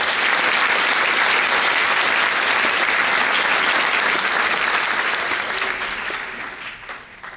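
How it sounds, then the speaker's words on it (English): Audience at a National Honor Society induction ceremony applauding staff: loud, full, continuous clapping from many people that holds steady, then tapers off over the last couple of seconds. "Let's give them all a round of applause."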